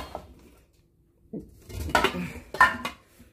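Metal cooking pots handled and knocked together, a few close clanking bumps and clinks in two short bursts after a quiet stretch.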